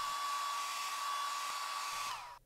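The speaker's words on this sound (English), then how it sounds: "heat the corner with your hairdryer" A hair dryer blowing steadily with a high whine while heating a phone skin corner, then switching off and winding down at the end.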